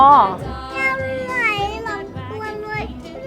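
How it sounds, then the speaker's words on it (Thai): A cat meows repeatedly in several drawn-out, rising and falling cries, close and clear, while people chatter in the background. "อุ้ยพี่โฟกเราเจอน้องแมวสิงโตใช่ไหมเนี่ย"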